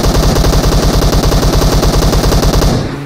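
Automatic gunfire in PUBG Mobile rattles out as one loud, close, rapid burst of evenly spaced shots that runs almost three seconds before cutting off.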